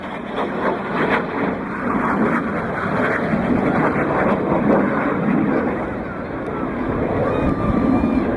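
Red Arrows RAF jets sweep past at an air show in a sustained, loud roaring rush that swells and holds steadily, with wind buffeting the microphone throughout.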